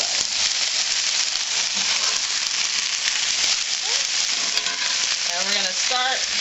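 Food fries in a giant pan with a steady, loud sizzle and crackle throughout, and a voice speaks briefly near the end.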